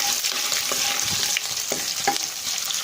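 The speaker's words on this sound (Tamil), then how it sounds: "இந்த நெய்யில் இஞ்சி வதங்கின மணம் வரும்" Crushed ginger fries in ghee for pongal, a bright close sizzle with light stirring scrapes and small pops running steadily throughout.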